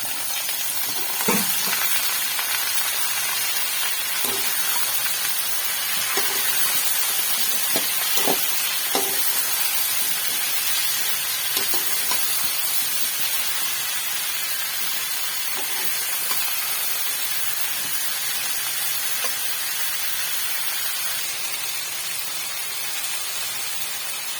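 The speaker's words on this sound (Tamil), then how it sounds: "இப்போ இந்த காய்கறிலாம் சேர்த்து இதில் வதக்கிக்கலாம்" Chopped vegetables, including raw banana and drumstick, sauté in a pan with softened onion for a South Indian kuzhambu, giving a steady soft sizzle with occasional scraping stir clicks, close and continuous.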